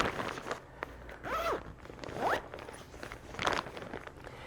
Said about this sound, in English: you zip it up